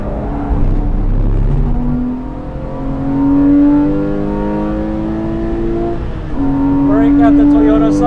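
A lightweight Porsche 997 Carrera 2S engine revs hard on a race track, its tone climbing through two long pulls with a brief gear-change dip between them, loud and close.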